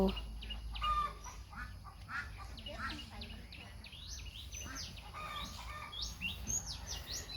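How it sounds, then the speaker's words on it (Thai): Ducks in a duck coop at a home garden give a busy mix of short chirping and clucking calls, overlapping and fairly close, over a low steady background hum. "เล้าเป็ดนะคะ ข้างหน้าของเรา"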